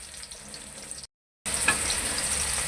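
Chopped garlic sizzling in hot oil for the tempering of a chicken kadhi, a steady close frying hiss that cuts out briefly, then returns louder and brighter.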